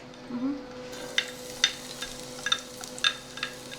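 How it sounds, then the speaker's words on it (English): Garlic sautés in oil in a pan with a steady sizzle, and a spoon or spatula scrapes and taps the pan at intervals. "Enough to saute the garlic and onions"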